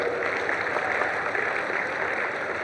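Steady, dense clapping from a crowd at a university convocation ceremony, continuous and fairly loud without breaks.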